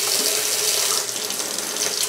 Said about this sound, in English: I just use my little sink sprayer to gently water the soil.